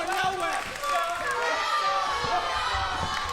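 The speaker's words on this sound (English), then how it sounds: "This crowd is getting behind the stupid clown." A wrestling show crowd cheers and shouts, close and lively, with a voice talking over the noise throughout.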